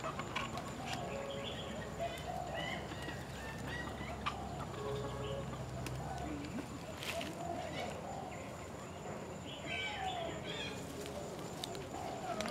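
Chickens cluck and murmur on and off in the background, scattered calls mixed with faint voices and outdoor ambience.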